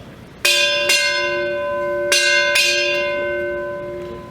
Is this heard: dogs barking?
no